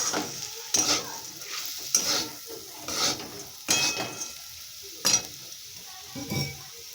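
Food frying in a pan with salt and turmeric: separate stirring scrapes about once a second over a quiet, steady sizzle, close by and with no voices.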